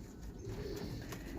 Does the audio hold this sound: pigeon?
yes